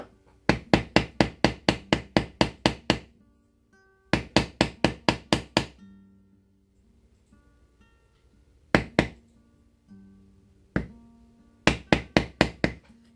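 Rapid bursts of sharp metallic-wooden taps from a stamping tool hammered on leather, struck in quick runs of several blows with short pauses between groups, close and loud.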